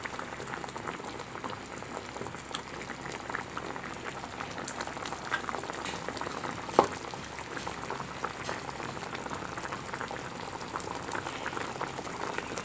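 Pork afritada bubbling in a pot, a continuous soft boil with dense small pops and bursting bubbles at a steady low level, close by and without voices.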